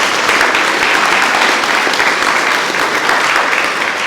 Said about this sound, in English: and a round of applause for Larry, please